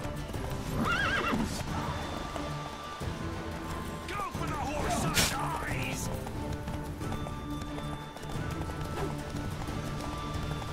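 A horse neighs loudly over steady clip-clopping hooves in The Witcher 3: Wild Hunt, with a busy rumble and other game sounds throughout.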